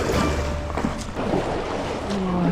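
An inflatable boat is paddled through water in the underground Paris catacombs, with soft splashing and sloshing strokes echoing in the enclosed tunnel, steady and close throughout.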